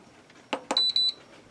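An electric pressure cooker sounds a short sequence as it is set: two soft button taps followed by a quick run of four bright, clear electronic beeps, close and alone.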